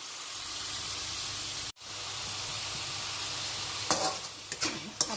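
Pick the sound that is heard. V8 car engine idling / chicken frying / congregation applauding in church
chicken frying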